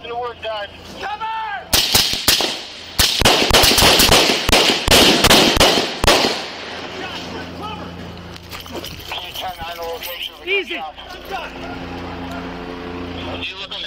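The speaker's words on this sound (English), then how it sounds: "Got gunshots in the woods, guys." A volley of loud gunshots in the woods during a mass shooting, heard on police body cam, bursts out in quick succession amid shouting voices, then the firing stops and talking continues.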